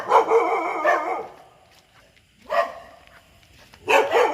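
A dog barks nearby outdoors during a fishing trip, three separate bursts of loud yelping barks with pauses between them.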